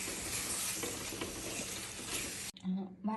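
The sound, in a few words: stirring roasted coconut masala into sizzling chicken curry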